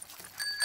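A cartoon bicycle bell from Peppa Pig rings in two quick bright dings, close and clear, with no talking over it.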